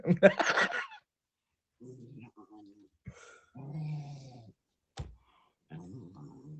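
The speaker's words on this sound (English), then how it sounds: "I love that when they talk and they growl at the same time." A small fluffy dog growls and grumbles in talk-like vocal bursts, close and fairly quiet, with short gaps of silence and a few sharp clicks between.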